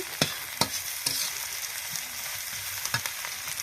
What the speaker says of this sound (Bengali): পেঁয়াজটাকে ভালো করে ভেজে নিচ্ছি